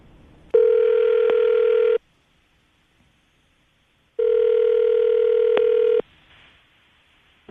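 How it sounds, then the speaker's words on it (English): A phone line gives two long, even electronic ringing tones separated by a pause of silence, clear and close. "I'm going to dial the phone number right now"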